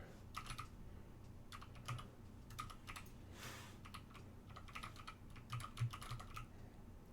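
A computer keyboard clatters in quick uneven bursts of keystrokes with short pauses between them, faint and close, with no talking.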